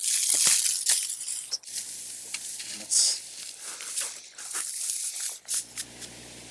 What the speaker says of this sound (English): I just go in and cut the stems back to about 4 to 6 inches coming up out of the grounds.